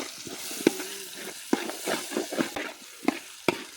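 Brinjal sautéing in a pan for a village-style dry fish curry, soft sizzling with scraping stirs and a few sharp utensil knocks against the pan, close and steady with no talking.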